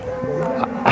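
Cattle of mixed breed lowing on a ranch, a sustained close moo with low droning tones and a few soft knocks in the background.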